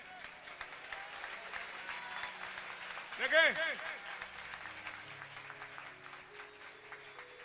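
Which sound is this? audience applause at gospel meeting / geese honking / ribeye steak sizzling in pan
audience applause at gospel meeting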